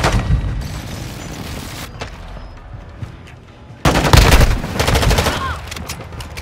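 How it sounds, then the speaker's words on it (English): Airstrike explosions in the Modern Warfare 2 video game, with heavy booms and crackling fire at the start, a quieter lull, then a louder rumbling barrage of blasts mixed with gunfire. "Friendly airstrike in the AO."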